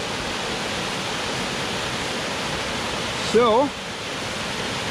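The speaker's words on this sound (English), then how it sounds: "even when I'm not looking for waterfalls, I find waterfalls." A small creek waterfall on Vancouver Island roars as a steady, broad rushing of water close by, with a brief spoken word partway through.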